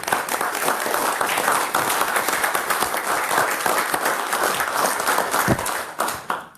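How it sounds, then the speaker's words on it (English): Audience members at a county board meeting give a standing round of applause, loud, dense clapping from many people that holds steady, then tapers at the end. "would you please just stand and give him a round of applause"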